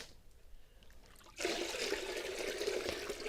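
Water poured together into a container for watering greenhouse plants; after a quiet start it becomes a steady, close splashing pour that runs to the end.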